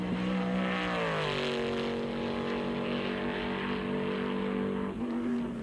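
A Saleen SR Mustang race car runs loud without mufflers, a steady unmuffled engine drone with pitch sliding down then holding at idle-like revs, close and continuous throughout.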